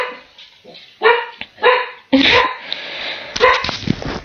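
Several dogs bark nearby indoors in a series of loud, uneven yips and barks with short pauses, some overlapping, ending in a sharper burst.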